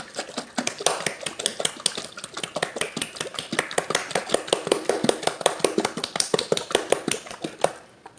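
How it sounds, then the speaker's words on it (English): Homemade garlic herb salad dressing is shaken hard in a covered container, giving a fast, steady rattle of sharp knocks and sloshing clatter that keeps going for several seconds, close and alone. "Now we gotta shake to mix."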